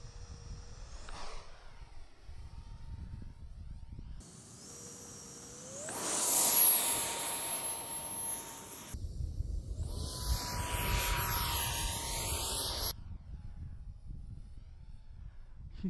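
A 50mm electric ducted fan on a 3D-printed RC jet spools up in stages, each burst a loud rising whine that holds, swells and drops away before the next, with brief quiet gaps between them.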